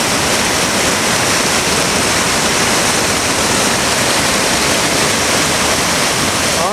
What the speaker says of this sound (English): Awesome power of the river here.